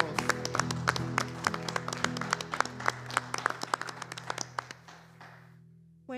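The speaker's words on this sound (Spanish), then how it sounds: "Aplauso para el Señor." A church congregation claps during a Spanish-language worship service, with individual claps ringing out fairly close and quite sparse. The clapping thins gradually and stops, and a voice starts up right at the end.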